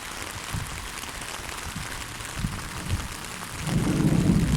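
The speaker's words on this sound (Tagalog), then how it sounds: "narinig nyo, may kulog. May kulog at kidlat." A low rumble of thunder swells near the end over a steady wash of rain, with faint thumps earlier; no one speaks.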